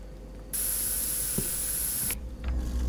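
Bear spray in the horror game Fears To Fathom gives one loud, steady hiss lasting about one and a half seconds, then cuts off abruptly, leaving quiet ambience.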